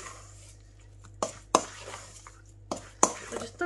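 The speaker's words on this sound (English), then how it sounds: "Just thoroughly mix all that in." Marinated chicken pakora is stirred by hand in a bowl before the gram flour goes in, giving a few sharp clinks and wet scrapes against the bowl at irregular intervals over a quiet background.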